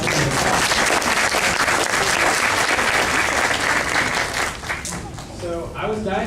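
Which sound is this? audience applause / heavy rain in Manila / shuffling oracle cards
audience applause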